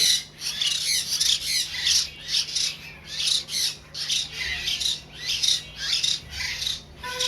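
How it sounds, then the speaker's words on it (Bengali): Several hill myna chicks squawk in harsh, rasping bursts, close and loud in a steady repeated rhythm, with no talking over them. "এখানে দেখতে ময়না পাখি বাচ্চাগুলো খুবই সুন্দর"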